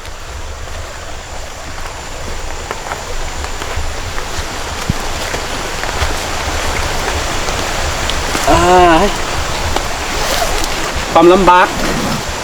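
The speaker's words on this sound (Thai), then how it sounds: "ฝนตกนะโอ้" Rain falls steadily in a forest during the rainy season, a continuous hiss of drops on leaves and ground, with someone speaking briefly and a couple of short tonal sounds near the end.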